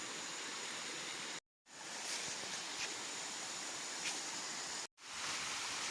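A mountain stream flows near a hillside home in Sultan Kudarat, a steady, close rush of water that fills the whole clip, broken by two brief cuts to silence.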